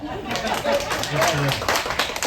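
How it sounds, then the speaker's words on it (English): A comedy show audience breaks into steady applause and clapping that continues throughout, with voices mixed in. "I'm going to need applause."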